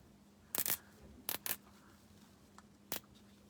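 Cable tie being tightened around a patriotic wreath bow, heard as a few sharp ratcheting clicks in quick pairs, close and fairly loud against quiet room tone.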